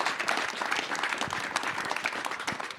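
A crowd at a Tesla engineering headquarters event in California claps steadily, a dense, close, continuous burst of applause with no pauses or voices.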